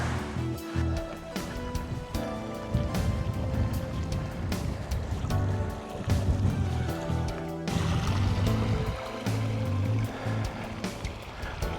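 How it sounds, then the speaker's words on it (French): Strong wind on a mountain hiking trail above 2000 metres, a steady loud roaring rush with gusty surges and no speech. "il y a beaucoup de vent"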